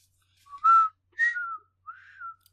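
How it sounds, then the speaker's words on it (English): Someone tries to whistle, producing three short, breathy, unsteady tones with pauses between, close and alone in a quiet room. "I can't whistle today. Fuck, I normally can."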